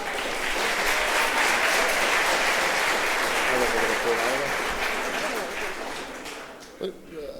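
Loud, sustained applause from the studio audience at a televised general election leaders' debate, with voices mixed into the crowd noise as the clapping slowly tapers off near the end.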